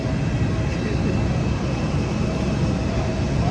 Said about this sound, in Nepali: यत्रो ठुलो प्लेन छ हेर्नुहोस्